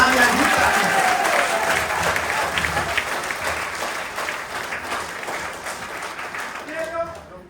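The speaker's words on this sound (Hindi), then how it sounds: "तालियां।" An audience at an ethical management award ceremony applauds, a dense sustained round of clapping that gradually thins and fades toward the end.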